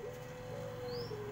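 Anggungan doves cooing at a bird farm in Mojokerto while the birds are set out to sun, a steady low coo running throughout, fairly close and alone with a faint chirp near the end.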